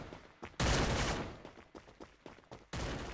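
Bursts of automatic gunfire in the mobile battle royale game Free Fire, two loud sustained volleys separated by scattered single shots and short pops, close and harsh.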